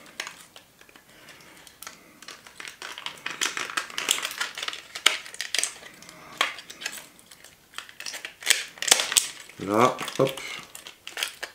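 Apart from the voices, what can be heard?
Dumbo keychain being put back into its packaging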